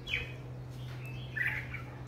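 Red-whiskered bulbul calls up close, two short bright chirps at the start and middle over a steady low hum, with no talk.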